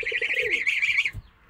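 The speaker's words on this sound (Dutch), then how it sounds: "En de duiven." Pigeons near a farmyard pen where a gosling lives with a Brahma hen give a close, soft throaty coo with a rolling, warbling call, then it fades out.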